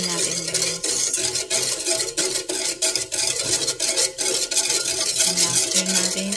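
A spoon stirs half a cup of brown sugar into 500 ml of water in a pot, scraping and clinking steadily over several seconds, close and moderately loud, with brief low hums in the background and no talk.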